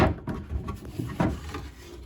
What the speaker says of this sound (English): The first job is to take out all the drawers.